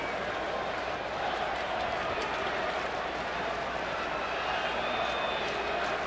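Sellout crowd of about 48,000 at Chase Field during an NLDS Game 3 baseball playoff game, a steady broad roar of applause and crowd noise that holds loud and continuous throughout.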